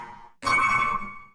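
A chirpy Phase Plant synth sound, pitched up high, enters after a brief faint lead-in with a bright tonal burst that rings for nearly a second before decaying, heard alone.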